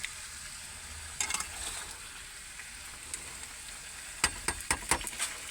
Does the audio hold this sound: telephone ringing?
no